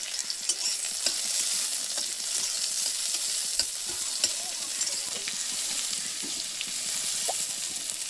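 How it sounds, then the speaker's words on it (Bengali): Chopped onions fry in hot oil in a wok, giving a steady, loud sizzle with occasional crackles and stirring scrapes, continuous throughout with no talking. "এবার আবার কড়াইতে তেল দিয়ে দিলাম কেটে রাখা পেঁয়াজ কুচি"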